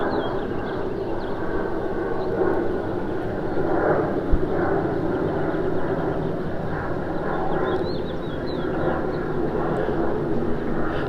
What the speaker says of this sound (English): there's a plane taking off from the airport